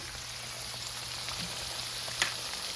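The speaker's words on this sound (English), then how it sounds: "Let that fry." Panko-crusted chicken pieces frying in a home kitchen pan give a steady, soft oil sizzle with a faint brief tick near the end, no talking.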